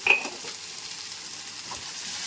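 Chicken 65 pieces fry in a pan with a continuous, even sizzle close by; a brief metallic clink opens the stretch, followed by faint stirring touches under the steady hiss.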